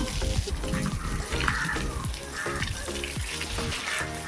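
Water gushes steadily from a connected hose, splashing continuously close by with a rough, bubbling texture that never lets up.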